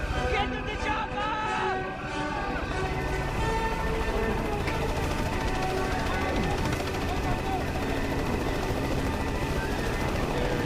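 A helicopter's dense, continuous rotor and engine roar fills the whole stretch loudly and close, with voices talking over it.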